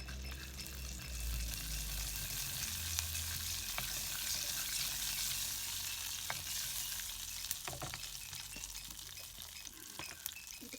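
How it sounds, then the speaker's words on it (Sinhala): Mustard seeds crackle and pop in a thin layer of hot oil in a pan for a lentil curry, a steady close sizzle dotted with sharp irregular pops and a few clinks, no voices. "අබ ටික පුපුරනකම් කරගමු."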